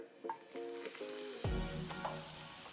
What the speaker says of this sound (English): We're gonna put some olive oil in there. Generous amount. We're also gonna add a big knob of butter in there.